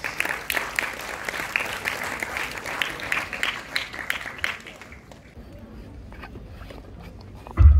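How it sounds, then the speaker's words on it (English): Audience applause for a speaker at a business event, a dense burst of clapping that fades after about five seconds into quieter room noise, followed by a brief thump at the very end. "A round of applause for him."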